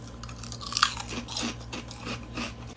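Close, crisp crunching of someone biting and chewing a fried, potato-flavoured snack, several bites in a row with no speech.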